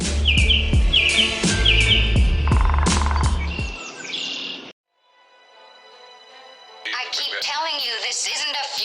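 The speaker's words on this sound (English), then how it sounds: "These are gulls, crows, swifts." A flock of gulls, crows and swifts in a Hitchcock film: dense, loud chirping and calls that break off into near silence with a faint high hiss, then the bird cries resume more sparsely.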